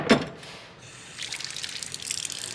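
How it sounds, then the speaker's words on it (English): Cold water pours steadily into an enameled cast iron casserole, a soft splashing trickle that starts after a brief thud and builds into a continuous bright rushing fill. "And now add cold water"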